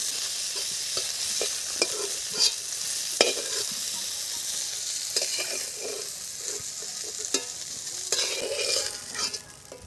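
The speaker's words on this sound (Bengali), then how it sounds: "ফুলকপি দেখুন কত সুন্দর করে ভেজে নিয়েছি" Cauliflower pieces fry in hot oil in a kadai for a Bengali rui fish curry, giving a steady close sizzle with repeated scraping and clinking strokes of a stirring spoon; no voices.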